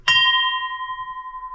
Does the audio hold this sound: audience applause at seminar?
no